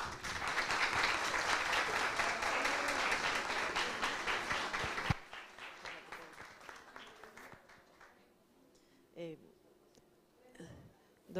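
An audience applauds after a talk on Alzheimer's disease, with dense clapping for about five seconds that stops abruptly, followed by a quieter stretch with a few scattered claps and faint voices.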